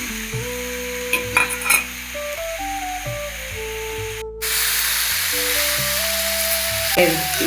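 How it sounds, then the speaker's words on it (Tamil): Cooked rice stirred and fried with coriander paste in a pan, a continuous sizzle with clinks and scrapes of a spoon, an abrupt cut midway and louder frying afterward, no talking. "இப்போ வடித்த சாதத்தை சேர்க்கலாம்"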